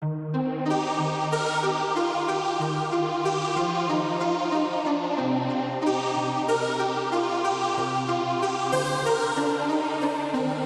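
An Analog Lab synth preset plays a chorus melody of long, harmonically rich sustained notes with bright upper partials, shifting pitch every few seconds, loud and continuous without any voice.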